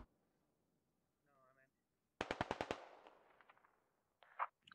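Burst of rapid gunfire in the tactical shooter game Squad, about six sharp shots in quick succession with a trailing echo, followed moments later by a shorter, quieter burst; a brief radio-like voice chirp comes just before.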